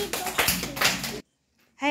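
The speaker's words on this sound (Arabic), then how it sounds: "هيا صفقوا" A group of young children clapping together in a classroom during a lesson, a dense burst of close hand claps lasting about a second before stopping abruptly, followed by silence and a brief voice.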